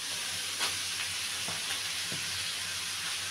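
Potatoes and carrots fry in hot oil with chili and cumin, giving a steady, close sizzle and hiss with a few soft stirring scrapes and no voices.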